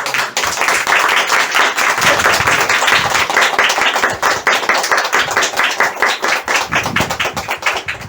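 An audience at an Indian direct-selling event at a herbal store claps hands loudly and continuously for several seconds, a dense, close patter of many hands.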